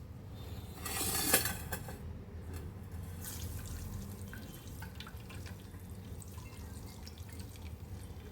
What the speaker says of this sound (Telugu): ఒక బౌల్లోకి స్ట్రెయిన్ చేసేసుకుందాం.